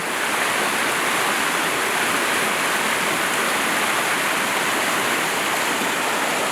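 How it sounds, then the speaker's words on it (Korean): Rain-swollen water rushes down a rocky mountain stream in Baekdamsa valley during the rainy season, a loud, dense and unbroken roar heard close by without talk. "이렇게 물이 흘러가고"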